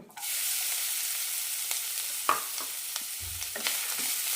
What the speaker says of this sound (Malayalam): തേങ്ങ നല്ല ചോക്കനെ വറുത്തെടുക്കണം